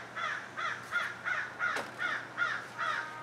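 A crow caws repeatedly outdoors, about eight harsh calls in a steady rhythm, moderately distant and fairly faint over a low background hum.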